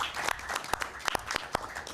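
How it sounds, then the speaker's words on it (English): A room applauds during a high school board of education meeting, sparse and moderately quiet clapping with a few sharp, close hand claps over a soft background of scattered applause. "Round of applause for Leo."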